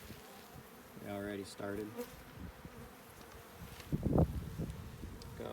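Bees buzz around a water box in the Mojave Desert as a hive is removed, with close, rising and falling drones coming and going over faint outdoor rustling, alongside a brief spoken remark.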